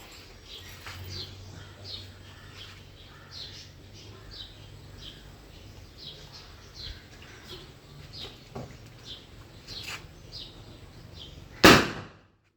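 Firecracker set off outdoors: one loud, sharp bang bursts near the end, rising abruptly over a faint bed of ambient noise and distant birdsong.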